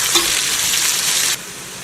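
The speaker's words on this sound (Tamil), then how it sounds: "ஆனியனை நல்லா கோல்டன் ப்ரௌன் வர வரைக்கும் நம்ம இதை வதக்கிப்போம்." Onions fry in hot oil for paneer biryani, giving a loud, dense sizzle that drops abruptly to a quieter hiss near the end.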